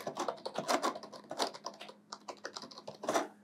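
Steady, fast typing on a computer keyboard during a practice paragraph-typing session, with dense clicking keystrokes running continuously and close up, briefly pausing midway before resuming, no voices.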